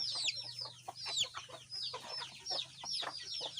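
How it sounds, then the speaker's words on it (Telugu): Chickens forage on a farm, clucking and chirping in quick repeated bursts close by, with a low steady hum underneath and no talk. "కోళ్ళకి చూడండి ఎలా మేస్తున్నాయో"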